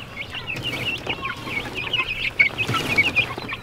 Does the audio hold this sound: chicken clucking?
yes